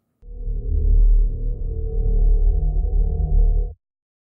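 Simulated sound of two neutron stars of 1.5 solar masses each: a deep, rumbling low drone that swells in and out for about three and a half seconds, then cuts off sharply.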